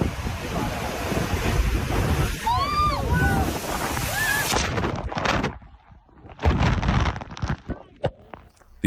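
Ocean surf crashes and rushes under gusting wind that buffets the microphone. The roar is loud and continuous, then drops away before returning in bursts, with a voice and a few high calls briefly rising over it.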